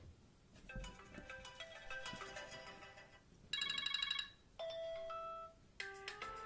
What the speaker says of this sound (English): so these are new iOS 7 ringtones and sounds.